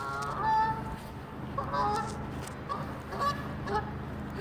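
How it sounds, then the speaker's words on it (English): Ducks honk and call in a few short, nasal bursts, close by and moderately loud, repeating irregularly over a soft outdoor background. "Duckies, coming! Coming!"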